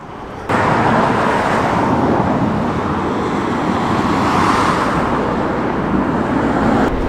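Old Scania truck passing on a rainy road, a loud broad roar of engine and tyre spray that surges in after a quiet start and stays close and steady.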